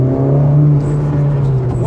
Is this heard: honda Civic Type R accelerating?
yes